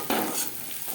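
Chopped onions fry in a pan, a brief burst of close sizzling with a stirring scrape.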